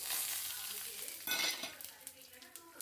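Indian tadka tempering with dal, chana dal, fenugreek, cumin and mustard seeds sizzles loudly in hot oil, a bright crackling hiss that swells and fades over a few seconds with faint stirring.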